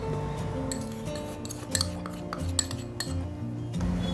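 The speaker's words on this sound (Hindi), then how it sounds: "दोनों को हम अच्छे से मिक्स करेंगे 3 से 4 मिनट तक।" Butter and powdered sugar are mixed in a large bowl, giving a continuous close scraping and clinking of a spoon against the bowl, with light irregular taps and a faint tonal hum underneath.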